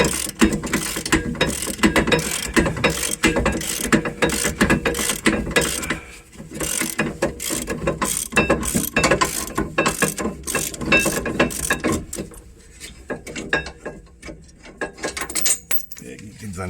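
Ratchet wrench loosening the rear brake bolts on a Fiat Ducato during a brake disc and pad change, a rapid run of close metallic clicks in bursts with short pauses, fairly loud throughout.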